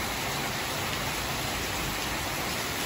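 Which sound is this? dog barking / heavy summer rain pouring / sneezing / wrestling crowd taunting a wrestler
heavy summer rain pouring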